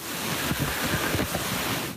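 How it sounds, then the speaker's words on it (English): Cyclone Debbie lashes the Airlie Beach foreshore in Australia: a continuous loud roar of pounding surf and destructive wind buffeting the microphone, with no voices. "The ocean a washout as destructive winds battered the coastline."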